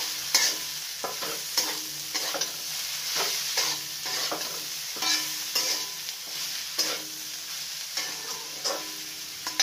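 Spices with a little chili powder being stirred into food frying in a pan: steady rhythmic scraping strokes of a spoon over a continuous close sizzle, repeated throughout with no talking.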